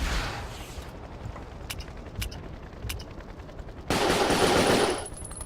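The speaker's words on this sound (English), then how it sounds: "Let's give them some gunfire" Battlefield Vietnam gameplay with sharp gunfire cracks spaced across a steady noisy background, ending in a loud sustained rushing burst.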